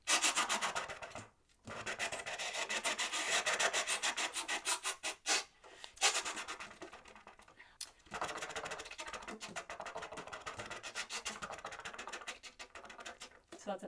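Saxophone played with pure air sounds instead of tone, using rapid double-tongued articulation: a dense, breathy hiss chopped into quick repeated bursts with brief gaps, fairly close and steady.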